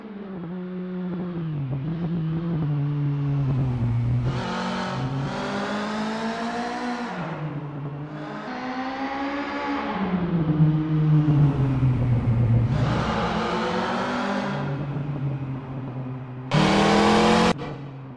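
Volkswagen Golf Mk1 'Littlebird' engine in Assetto Corsa sim racing on an easy outlap, a steady droning rev that climbs and drops through several gear changes, loud and continuous with a brief sharper burst near the end, no talking.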